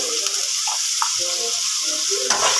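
Spices and tikka masala with salt sizzle as they are roasted in a pan, a soft, steady hiss with light scraping and stirring touches throughout, fairly close.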